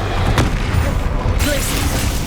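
A Bombarda blasting spell in the Hogwarts Legacy video game lands as a heavy, close booming impact amid continuous loud combat rumble and low game noise.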